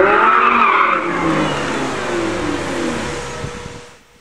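A 2009 Lamborghini Gallardo LP 560-4 coupé revs hard while driving, its loud engine note climbing and shifting with a brief squeal of tires, then fading as the car pulls away.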